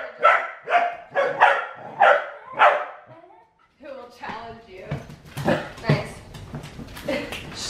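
Welsh Corgi barking, a run of five loud, evenly spaced barks close up, then a pause followed by quicker, mixed yips and barks, with what may be a voice underneath.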